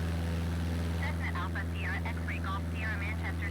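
A Cessna light aircraft droning steadily in flight with the throttle eased back, its propeller and engine hum a constant tonal rumble beneath radio-like chatter and voice in the cabin.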